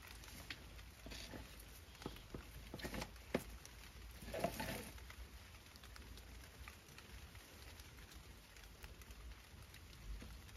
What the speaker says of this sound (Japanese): 雨降ってるよ。